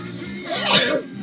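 A single sharp sneeze bursts out over faint background chatter on a Halloween field trip to a farm, brief and fairly close.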